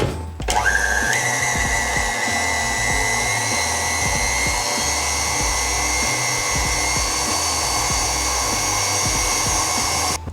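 An electric stand mixer whisking Italian meringue buttercream as butter chunks go in, a loud steady motor whine with a brief pitch rise at the start and faint rhythmic ticking of the whisk throughout.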